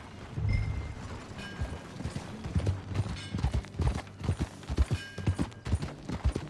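Horse hooves clip-clop at a steady walking rhythm in Red Dead Redemption II, close and fairly loud, with faint creaking of tack and occasional low game ambience underneath.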